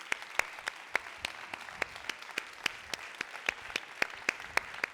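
A small audience applauds young theatre actors. Sparse, quiet claps land singly at a steady rhythm for about five seconds, as if from only a few people.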